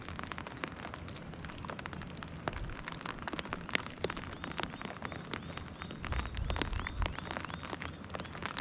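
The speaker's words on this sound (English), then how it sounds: "I think it's raining." Steady rain patters on a surface nearby at Mahood Lake, a dense crackle of drops with irregular louder taps, continuous throughout.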